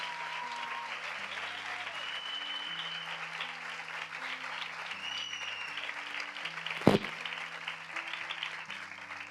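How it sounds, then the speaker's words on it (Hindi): A church congregation claps together during a Hindi sermon, a soft, steady patter of applause over sustained keyboard chords, with one sharp knock partway through. "आइए हम अपने खुदा के लिए एक अच्छी ताली बजाएं"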